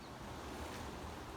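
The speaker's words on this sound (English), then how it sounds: "that the wind is moving the tent even with the bricks" Strong wind blowing outdoors during a wind storm, a faint, steady broadband rushing roar with no distinct gusts or other sounds, and no talking.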